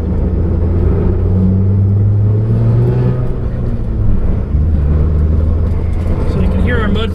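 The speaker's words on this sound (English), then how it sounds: "So you can hear our mud flaps dragging." Budget rally car on a rough road, its engine rumbling loudly while mud flaps drag and rocks clatter against the underbody in scattered knocks.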